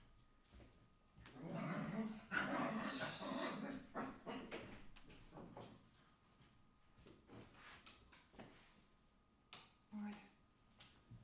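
Dogs growl, whimper and pant behind a door, muffled and fairly faint, in uneven bursts that peak early and then come in short sharp yelps and snarls, with occasional soft sounds of movement.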